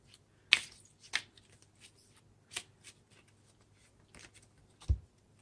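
Tarot cards being set down one by one on a surface, giving a handful of soft, crisp slaps and flicks spaced unevenly over several seconds, quiet and close with no talking.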